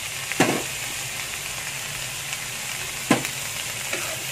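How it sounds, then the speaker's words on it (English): Winged beans stir-frying in a hot pan with salt and sugar, a steady quiet sizzle broken by two or three sharp scraping stirs, close and alone. "So we stir fry until the vegetable is slightly soft eh."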